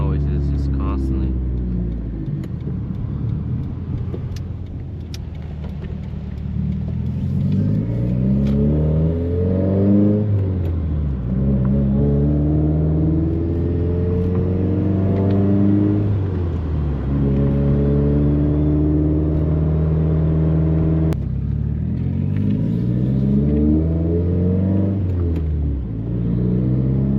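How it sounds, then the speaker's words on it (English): A 2016 Subaru WRX with a new downpipe drives along, its engine rising and falling through repeated revs and gear changes, turbo whoosh over a loud, close drone. "All you hear is just turbo noises, just constantly."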